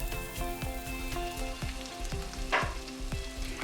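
Cumin seeds sizzle steadily in hot oil for a fenugreek and chicken curry, a continuous close frying crackle broken by regular scraping stirs.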